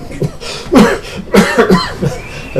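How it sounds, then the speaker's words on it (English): A person coughing close and loud: a series of harsh, raspy coughs in uneven bursts spread across a few seconds. "The cough sounds worse."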